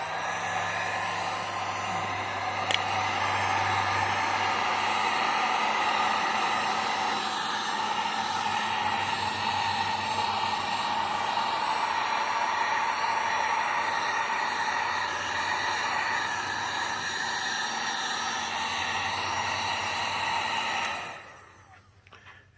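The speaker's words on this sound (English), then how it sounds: "I have to take the heat gun and bond this" A heat gun blows steadily over an encaustic wax painting, giving a continuous airy roar with a hum underneath that runs for about twenty seconds and then cuts off near the end.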